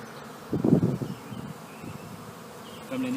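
Honeybees swarm around an opened beehive during spring hive inspection, one loud close buzzing burst rising briefly before settling into a lower, steady hum with no voices.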